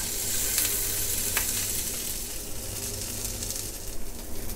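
Gyoza dumplings sizzle and fry in a hot pan, a steady dense crackle that runs close and constant throughout, with a few sharper pops and bursts rising above it and no talking.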